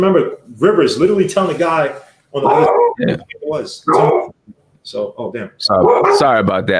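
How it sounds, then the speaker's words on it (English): A dog barks and whimpers excitedly indoors. The yips are mixed in with and partly masked by a man's close, continuous talking. "That's my dog's going crazy."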